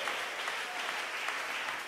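Church congregation applauding during a sermon, a dense, steady wash of clapping from many people, close and continuous with no voices heard over it.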